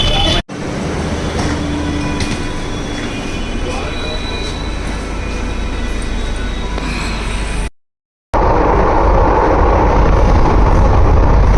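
Loud, continuous rumbling roar of a metro train underway on a bumpy track, with faint screeching and clatter, briefly cutting out near the end.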